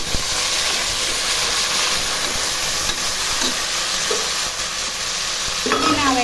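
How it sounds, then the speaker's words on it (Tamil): Onion masala for chicken biryani fries loudly and steadily in a pan, a dense hiss and sizzle that runs throughout, with a few faint stirring scrapes and a brief clink near the end. "இந்த அளவுக்கு நல்லா வதங்கிடணும், அப்போ தான் பிரியாணி டேஸ்டாகும்."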